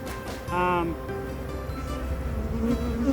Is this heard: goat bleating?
no